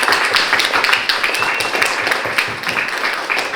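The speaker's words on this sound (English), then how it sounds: "first round of applause for the organizers" Audience at an academic lecture on Ghassan Kanafani's fiction claps for the organizers, a sparse, uneven patter of individual hands that stays moderately loud and close throughout.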